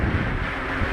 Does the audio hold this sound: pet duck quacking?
no